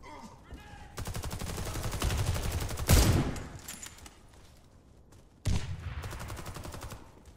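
Sniper gunfire in a first-person shooter game: loud sharp cracks near 1, 3 and 5.5 seconds, each followed by a rumbling tail, with bursts of rapid fire mixed in and a voice talking faintly underneath.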